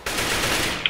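A rapid, dense burst of gunfire rings out in a CS:GO match, loud and continuous for under a second, ending in a sharper crack.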